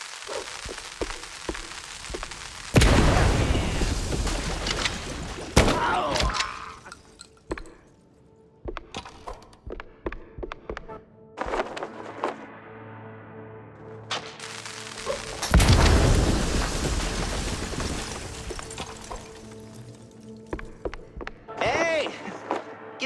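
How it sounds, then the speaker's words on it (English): Firecrackers explode in a wooden attic in the video game Mouse P.I. For Hire, with two loud bursts of booming, crackling blasts separated by quieter gaps that hold scattered pops and rumbles. "Pretty sure the fire department frowns on stuffing firecrackers into wooden attics."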